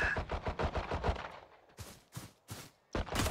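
Rapid gunshots in the tactical shooter Valorant fire as a fast, close burst of about a dozen sharp cracks, followed after a pause by three or four spaced, punchy single shots.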